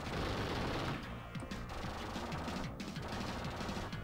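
Rapid gunfire from the Terminator 2 arcade game on Sega Mega Drive, fired at crates, plays as a dense, loud, continuous rattle of shots layered over game music for the whole stretch.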